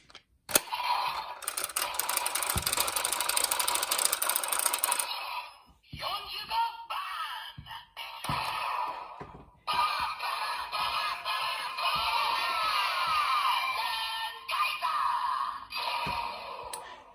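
A DX DonBlaster toy from Avataro Sentai Donbrothers, with the Zenkaiser Avatar gear inserted, plays loud electronic sound effects and music in several bursts separated by brief gaps and clicks.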